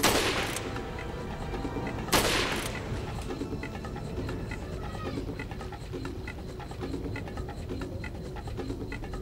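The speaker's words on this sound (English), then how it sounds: "That's a rocket launcher!" In the video game Resident Evil 4, two loud, close bursts of rocket launcher fire, each a sharp blast with a brief roar, are followed by a lingering rumble and scattered distant pops.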